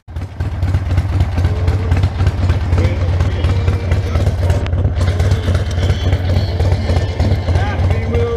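A 1973 Harley-Davidson Ironhead motorcycle engine runs continuously with a heavy, low, throbbing rumble, loud and close throughout the ride.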